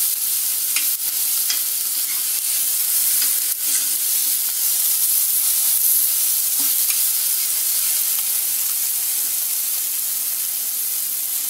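Ingredients for raw mango pachadi sizzle steadily in a pan, a continuous broadband frying hiss with occasional stirring scrapes and small pops, close and fairly loud throughout with no talking.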